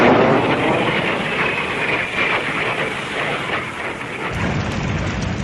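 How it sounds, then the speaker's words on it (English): Distant artillery bombardment and bombing from fighter bombers over a besieged Vietnam War firebase at Khe Sanh form a continuous rumbling roar of blended explosions, dense and sustained, with no clear separate blasts. "fighter bombers were blasting the suspected locations of the North Vietnamese artillery"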